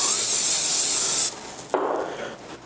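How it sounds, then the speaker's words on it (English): A loud aerosol cooking spray hisses onto a grill for about a second, then stops, followed by a softer sizzling rush. "I like to spray either my chicken or my grill so it doesn't stick"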